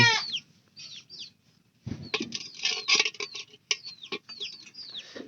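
A hen clucks repeatedly in short bursts of squawky calls, with a pause and then a busier stretch of overlapping clucks. The bird is close and loud, and no one speaks.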